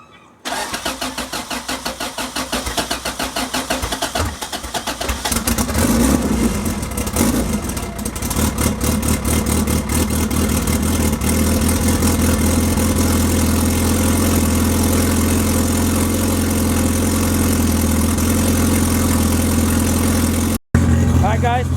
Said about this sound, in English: Alright guys, the car started.